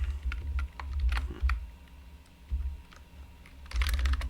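Fingers type code on a computer keyboard in steady bursts of close, crisp key clicks with short pauses between, heard alone without talk.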